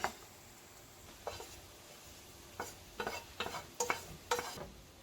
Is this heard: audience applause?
no